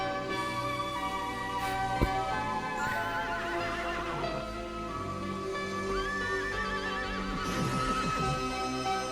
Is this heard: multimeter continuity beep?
no